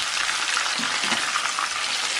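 Fish fries in hot oil in a wok, giving a steady, dense sizzle with crackling spatters that runs loud and unbroken throughout.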